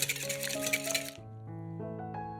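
A whisk beats eggs and salt in a bowl in quick rhythmic scraping strokes, close and fairly loud for about a second, then stops while soft background music carries on.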